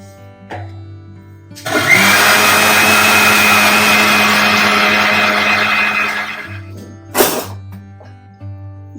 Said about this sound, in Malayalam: നന്നായി അരിയണം, നല്ലോണം അരിയണം.